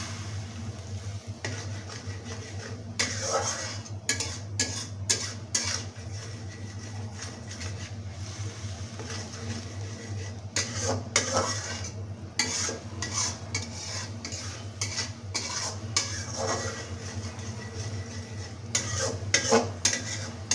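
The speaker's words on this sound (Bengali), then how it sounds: "এখন মশলাটাকে একটু কষিয়ে নেব।" Spices with turmeric being stirred and sautéed in a pan for a pangash fish curry: steady frying hiss under repeated scraping strokes of a spoon, close and moderately loud throughout.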